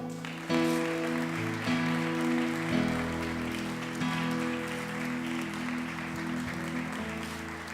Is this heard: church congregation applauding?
yes